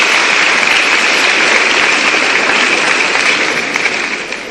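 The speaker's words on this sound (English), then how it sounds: "Let's give another round of applause" A seated audience at an education forum in Ghana applauds steadily, a dense, even wash of clapping that holds strong throughout and thins slightly at the very end, with no voices over it.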